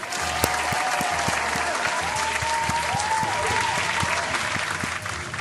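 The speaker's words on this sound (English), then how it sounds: "Let's go ahead and do a round of applause to you." A dense round of applause from a crowd, sustained and even throughout, with sharp individual claps standing out over the steady roar.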